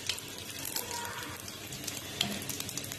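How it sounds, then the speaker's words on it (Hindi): Cumin and carom seeds crackle and sizzle in a spoonful of hot oil, a steady close frying hiss with a few sharp pops, heard alone at moderate level. "तेल के गरम होते ही इसमें हम डाल देंगे जीरा और अजवाइन भी डाल देंगे"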